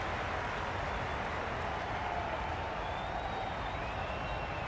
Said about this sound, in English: Will you listen to the crowd?